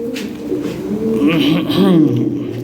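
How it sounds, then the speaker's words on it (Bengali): Pigeons coo in low, rolling murmurs, with a person talking over them close by. "দেখ অনেক কবুতর আছে ভাই"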